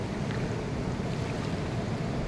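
Monsoon-swollen Tunga river at Thirthahalli rushing past in the rain, a dense, steady roar of flowing water, loud and close, with no talk over it.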